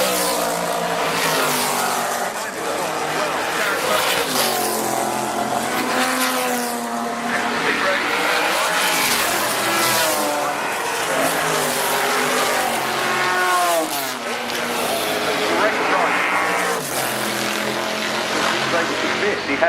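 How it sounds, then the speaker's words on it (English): Historic race car spinning during the RAC TT Celebration race at the Goodwood Revival, engines roaring and pitch swooping up and down amid other passing cars, with a commentator talking over the loud, continuous racing noise throughout. "Oh, spin for number 50 coming up."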